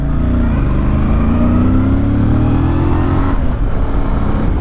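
A Voge 625 DSX motorcycle accelerates in second gear on a road above L'Escarène, its engine loud and close, with a continuous droning note rising steadily before easing off briefly near the end.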